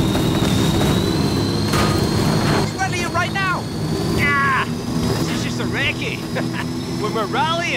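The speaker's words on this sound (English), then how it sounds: "Follow the chopper." A helicopter flies in the racing game Forza Horizon 5, heading toward a festival. Its steady droning engine hum runs continuously and fairly loud throughout, with voices talking over it.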